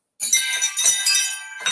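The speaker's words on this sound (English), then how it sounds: "wind chimes. I got a gong." Wind chimes ring loudly and close after a brief silence, a dense shimmer of bright overlapping metallic tones with several fresh strikes and no talking.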